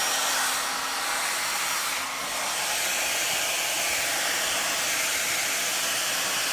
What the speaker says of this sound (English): I'm also being very cautious about where I place that blow dryer, because I don't want that blow dryer to touch the hair either.